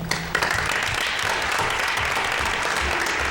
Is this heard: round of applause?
yes